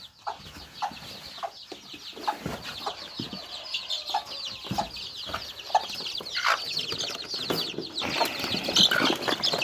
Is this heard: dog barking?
no